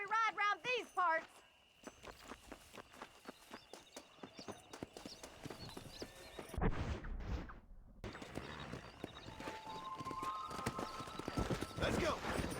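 Horses in Red Dead Redemption gallop with rapid clip-clop hoofbeats while riders race, including a whinny at the start; hooves stay close and steady, with voices talking at moments and a brief quiet gap midway.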